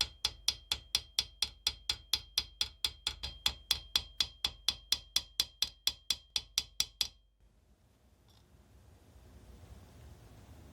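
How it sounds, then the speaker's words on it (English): A hammer lightly peens a screw head on a Mannlicher 95 rifle in 8x50R, about thirty rapid, evenly spaced metallic taps in a steady rhythm, close and clear, stopping abruptly and leaving quiet room noise. "I'll use a hammer to lightly peen the screw head"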